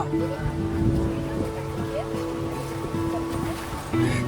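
Steady rain falls on a slippery hillside path of steps on a monsoon trip in Jharkhand, a dense continuous hiss with faint tonal hum beneath and no talk.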